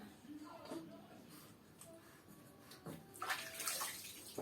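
Water splashes and pours while a newborn baby is rinsed in a bath. Soft irregular splashing builds to a louder wash near the end.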